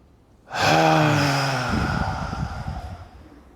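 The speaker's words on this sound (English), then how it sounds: "Nice breath in." A deep breath is drawn in during a tai chi exercise. It opens with a sudden, voiced, gasp-like onset, then becomes an airy breath that slowly fades.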